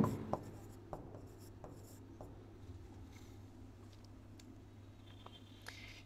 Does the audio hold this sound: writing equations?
yes